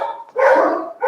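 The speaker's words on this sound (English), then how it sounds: "Here's your dog barking." A Rottweiler-type dog barks loudly and close, two or three quick gruff barks in a row with a short pause between them.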